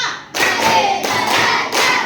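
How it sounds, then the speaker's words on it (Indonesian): Classroom group clapping, loud bursts of many hands striking together in a counted rhythmic pattern, with clear short gaps between the clusters of claps. "Tepuk 1, tepuk 2, tepuk 3, tepuk 4, tepuk 5."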